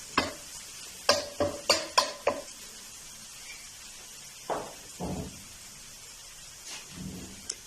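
Garlic stirred in a hot pan for a restaurant-style chicken dish, with a quick run of sharp scraping strokes followed by slower, softer stirs over a faint steady sizzle.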